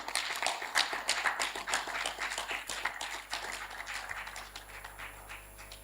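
An audience claps for a keynote speaker at an event, with a fairly close, dense patter of applause that peaks early and then slowly thins out over a low steady hum.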